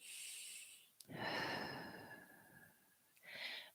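Slow, deep breathing held during a yoga pose, a long airy inhale then a sustained exhale, with another breath starting at the end; close, quiet and without speech.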